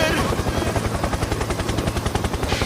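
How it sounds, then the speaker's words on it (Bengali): Helicopter rotor blades thump loudly and rapidly at close range, a steady chopping pulse that lasts throughout, with voices faintly beneath it. "Helicopter, helicopter."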